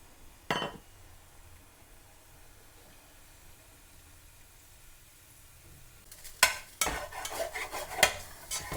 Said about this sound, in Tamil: அந்த கொஞ்சம் நெய்யுகளே போட்டு தேங்காய் பூவை வறுத்து கொண்டிருக்கிறேன்